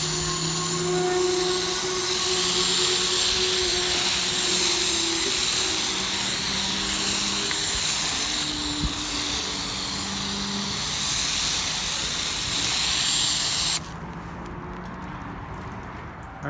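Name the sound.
pressure washer foaming a car with Blackfire foam booster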